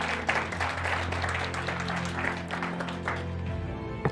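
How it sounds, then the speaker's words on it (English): An audience at a leadership celebration event applauds, a dense, steady patter of clapping in a room that fades out near the end, over a low hum. "Let's give them a round of applause."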